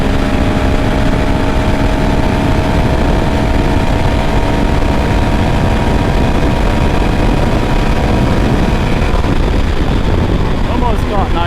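Engine of a 2022 Honda CRF450RL dual-sport motorcycle pulling hard in 6th gear at high road speed, a loud continuous drone with steady harmonics mixed with heavy wind rush throughout.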